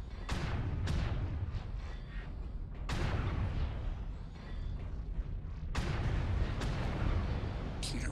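Artillery strike in a sci-fi shooter game: a rapid series of heavy booming blasts, several loud impacts spaced a second or two apart with rumbling tails, each one sharp at the onset and close by.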